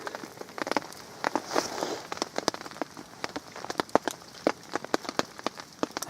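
Rain patters on a tent or tarp at an overnight camp, steady hiss with frequent close, sharp drops hitting the surface, nearby and fairly loud throughout.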